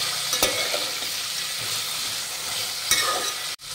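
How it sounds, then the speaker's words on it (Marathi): A handful of peanuts with finely chopped potato is stirred in a hot pan, a steady soft sizzle with a couple of sharp spatula scrapes and a brief clatter at the close, no voices. "त्यानंतर घालूयात मुठभर शेंगदाणे आणि हे व्यवस्थित परतून घेऊयात."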